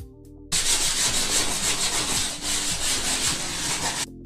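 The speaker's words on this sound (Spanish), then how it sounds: "solamente los estoy lijando un poquito porque las voy a unir" Boards salvaged from a reused wooden crate are hand-sanded with steady back-and-forth rubbing strokes, a continuous close gritty scraping that starts abruptly and runs for several seconds before stopping.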